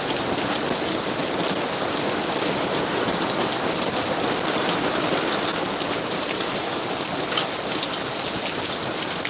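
Steady rain falling, a dense continuous patter of drops on surfaces, even and unbroken throughout with no voices.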